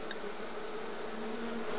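Honey bees buzz around a swarm being rescued from an orange tree, a close, continuous drone with no talk over it.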